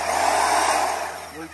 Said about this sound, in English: This is a porta band. Portable bandsaw is what it stands for.